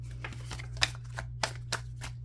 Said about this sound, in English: All right, 3 more shuffles for Virgo spirits.